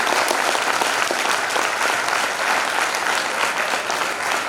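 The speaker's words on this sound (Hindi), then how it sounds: "तो जोरदार तालियों के साथ, जोरदार तालियां है।" A lecture audience in Pune breaks into loud, sustained applause, dense clapping filling the hall continuously for several seconds.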